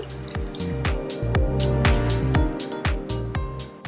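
Water pours into a pot to make herbal tea, a close, continuous trickling fill with bright splashing drips throughout and no talking.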